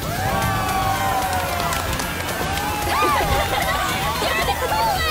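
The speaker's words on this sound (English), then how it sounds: "Give our worthy contender another thunderous round of applause!" A loud, dense arena crowd cheers and shouts in the Gold Saucer of the Final Fantasy VII Rebirth video game, with rising whoops and babble layered over a constant roar.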